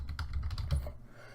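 Rapid, close keystrokes on a computer keyboard, a quick uneven burst of clicks lasting about a second before trailing into quiet; no one speaks.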